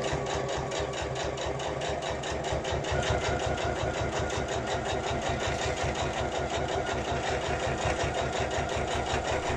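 Sewing machine stitching steadily along a fabric pouch, a fast, even mechanical rattle of needle strokes, close and continuous throughout with no talk.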